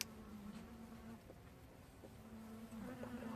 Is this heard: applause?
no